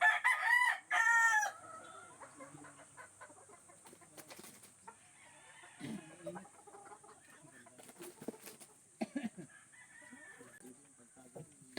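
Two young roosters in a farm range area, one loud crow close by at the start, then softer clucks and scattered bird calls over quiet farmyard background.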